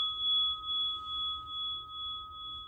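A bell rung during a children's yoga storytime holds one clear, steady ringing tone that sustains evenly with a slight pulsing shimmer, fairly quiet and alone with no voices.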